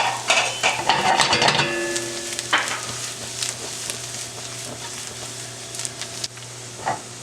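Beef bacon cooking with onions and garlic in a pan: a soft continuous sizzle close by, with a burst of utensil scraping and clinks near the start and a few later knocks.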